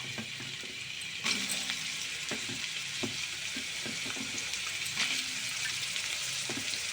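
Onions sizzle steadily in hot oil in a pan, with a continuous frying hiss and occasional clinks and stirring scrapes, close and fairly loud, with no one speaking.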